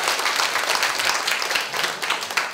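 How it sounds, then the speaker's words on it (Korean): A large audience at a youth unification debate final gives a long burst of loud, dense applause that holds steady with no one speaking over it. "다시 한번 큰 박수 부탁드리겠습니다."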